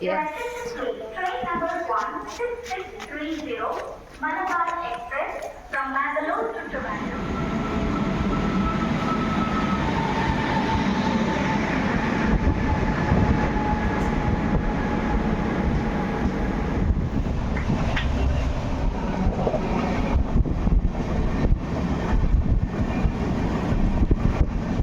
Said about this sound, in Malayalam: ട്രെയിനിലാണ് ഗൈസ് നമ്മൾ വന്നത്.